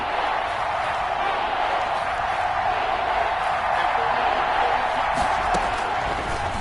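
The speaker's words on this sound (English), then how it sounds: "The crowd getting into it as we come up on a big third" Stadium crowd noise in a PS4 football video game ahead of a big third down, a steady, dense roar of cheering that holds at an even level throughout, with play-by-play commentary running over it.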